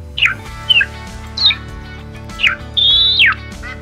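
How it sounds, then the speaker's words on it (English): Duck calls for Eurasian Wigeon and Teal blown in a hunting video game: a series of short, high whistled chirps followed by one longer sliding whistle, loud and close over a low steady background hum. "let's put out a couple calls, see if we can get some ducks in here"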